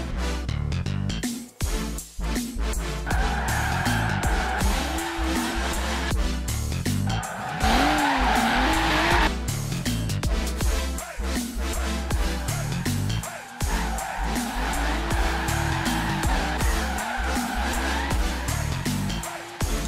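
A Subaru BRZ Horizon Edition drifts through Forza Horizon 3, its engine revving hard while tires squeal and skid in long screeching slides, broken by gear changes and brief lulls.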